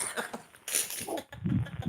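A person coughs a few times in short, rough bursts, close by, with brief breathy sounds between them.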